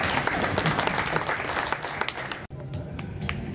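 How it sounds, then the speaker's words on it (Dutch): Audience applause at a Dutch veterans' shooting championship final, a steady, moderately distant patter of many hands clapping that breaks off briefly near the end before resuming. "uw applaus voor Hans Manders."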